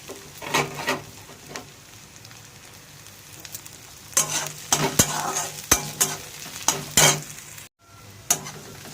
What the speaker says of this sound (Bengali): আদা রসুন কুচি আর পেঁয়াজ কুচি একটু ভাজা ভাজা হয়ে গেলে তার মধ্যে জিরার গুঁড়ো দিয়ে দেবো